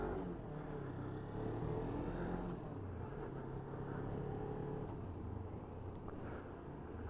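A Suzuki Inazuma motorcycle rides through city centre traffic, its engine a steady, low drone that blends with surrounding road noise for several seconds.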